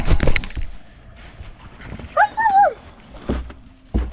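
A dog on a winter homestead gives a short rising whimper midway, framed by a few soft thumps and faint barks at the start and end; no one talks.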